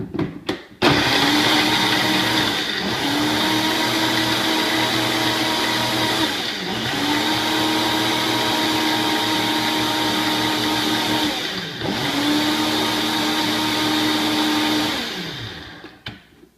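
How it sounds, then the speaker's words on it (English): A blender whirs steadily, blending almond milk, protein powder and a handful of ice, running in loud sustained bursts with brief dips and pulses between them, then winding down at the end. "5 or 6 pieces of ice. And blend this up."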